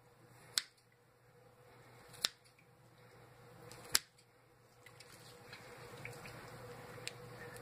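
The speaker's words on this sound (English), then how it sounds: "I take my scissors and I go down the wing this way with my scissors." Kitchen scissors cut along a turkey wing at the joint, giving three sharp, separate snips spaced about a second and a half apart, followed by a few fainter clicks over a steady low background hum.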